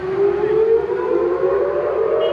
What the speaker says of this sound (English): Iran's attack last night triggered air raid sirens and sent millions of people scrambling for shelter.